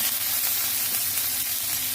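Onion and chili sizzling steadily in a hot pan while being stir-fried for young pumpkin, a constant bright frying hiss with no speech over it.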